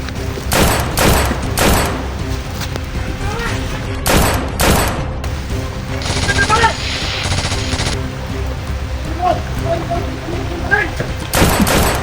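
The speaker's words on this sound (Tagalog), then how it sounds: "Grabe, lalakas ng baril nila." Loud bursts of rapid gunfire in a game, several fusillades with pauses between, with voices talking over parts of it.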